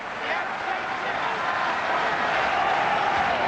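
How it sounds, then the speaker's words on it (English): Boxing arena crowd roars in a sustained, loud wash of cheering during the Vitali Klitschko vs Obed Sullivan heavyweight fight, with commentators talking over it. "The crowd again getting into it."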